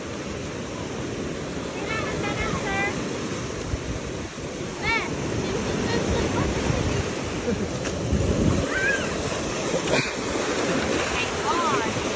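Broad, continuous roar of waves crashing on a beach with wind buffeting the microphone, loud and close, while several people talk intermittently over the surf.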